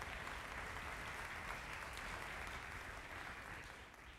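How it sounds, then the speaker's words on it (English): A steady, dense wash of audience applause at a 2006 campus talent contest, moderately loud and uninterrupted, easing off slightly at the end. "Let's give Hillels of Georgia one more big, huge round of applause."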